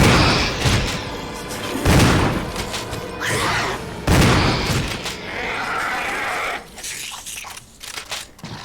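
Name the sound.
gunshots in Resident Evil HD video game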